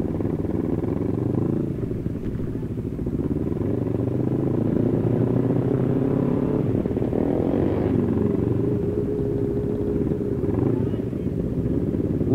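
Honda CBR600RR four-cylinder and CBR250RR sport motorcycles race, their engines droning and revving loudly and continuously throughout, with wind rush and people talking over the roar.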